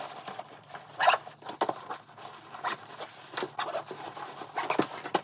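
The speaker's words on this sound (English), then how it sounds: "let me go ahead and zip this up" A zipper is pulled along a packed bag of clothes and shoes for a cruise, giving several short scratchy rasps with soft rubbing and shuffling between them, close by.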